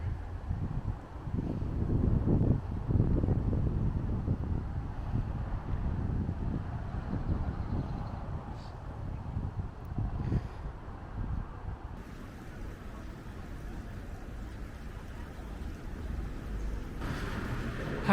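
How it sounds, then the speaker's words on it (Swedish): Strong wind buffeting the microphone outdoors, heavy low rumbling gusts that are loudest early and then ease to a steadier roar. "Nu blåser det som fan."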